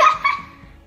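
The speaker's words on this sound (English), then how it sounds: "That's a dog." A dog gives a single short bark followed by a quieter second yip that fades away quickly.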